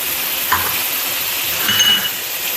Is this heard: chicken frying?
yes